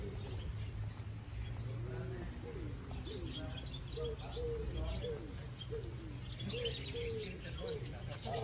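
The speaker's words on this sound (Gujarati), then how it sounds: "વાહ ભાઈ વાહ, બધા બર્ડ્સ." Several birds chirp and coo in a steady, busy mix over a constant low rumble of distant traffic, with a faint voice now and then.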